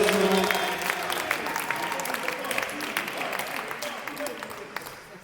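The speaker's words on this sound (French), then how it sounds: "on peut l'applaudir et la remercier chaleureusement" An audience at a prize-giving claps in a dense burst that slowly fades out, with voices mixed in under the applause.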